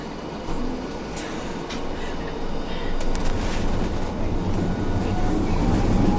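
Hiroshima Electric Railway 1000 series Green Mover LEX tram, car 1012 with a Toyo IGBT drive, starting to move between Takanobashi and Shiyakusho-mae. Steady interior rumble grows louder as a faint motor whine rises at the end.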